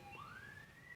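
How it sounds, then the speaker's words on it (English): A siren wails faintly from outside, a single rising electronic tone sweeping upward and holding, distant and alone with no talk. "Sorry about the sirens."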